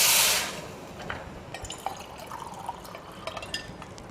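Water is poured over rice in a pot for vegetable pulao, starting with a short loud splash, then settling into light trickles and scattered drips close by.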